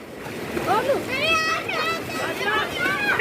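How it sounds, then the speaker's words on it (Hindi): Splashing in cold water while bathing in a mountain village during summer holidays: repeated small splashes under lively, overlapping voices and shouting. "स्वामी कन्नी को भिगा रहा।"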